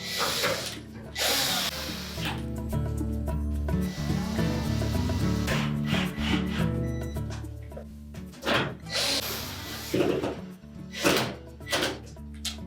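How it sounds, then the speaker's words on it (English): Retaining screws are driven back into a Whirlpool kitchen range, giving short mechanical whirs and metallic clicks with a few dull thunks from handling panels, close by and moderately quiet, with no speech. "And then we'll reinstall the retaining screws."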